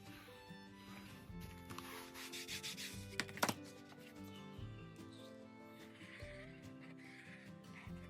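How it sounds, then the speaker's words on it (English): A bone folder rubs and presses paper down into the folds of an old journal cover, giving soft close scraping and rubbing strokes with a few sharp taps, and no voice. "I've also got my bone folder here, which I can use for kind of pushing it down into those folds"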